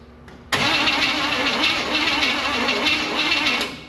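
A budget-rebuilt Chevy engine cranks and catches after a short lead-in, then roars into a loud, steady run close by, easing slightly near the end.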